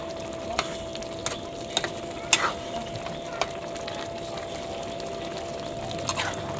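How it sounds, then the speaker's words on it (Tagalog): A pot of boiling sinantol being stirred, with soft bubbling and occasional scraping clicks of a utensil against the pot over a steady low simmer hiss, close and quiet. "Kulong-kulo na. Akin na pong hahaluin."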